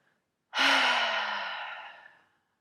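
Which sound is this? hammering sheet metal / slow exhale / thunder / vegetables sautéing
slow exhale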